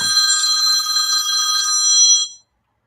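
A telephone ringing indoors, one steady, close electronic trill that stops abruptly into silence.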